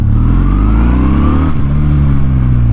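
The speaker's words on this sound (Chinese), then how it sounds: "在拉起来的时候那个排气声浪啊，非常的不一样。" A Kawasaki W800 with an air-cooled twin-cylinder engine pulls away under acceleration, its loud, throbbing exhaust climbing in pitch, briefly dipping at a gear change, then pulling on strongly again.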